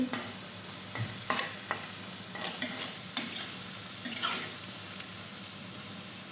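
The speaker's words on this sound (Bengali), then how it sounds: "তো খুব সুন্দরভাবে মুচমুচে করে ভেজে নেব ভিন্ডির পকোড়া" Okra pakoras fry in hot oil with a continuous soft sizzle, broken by a handful of sharp scraping and stirring clicks from a spoon in the pan, close and without voices.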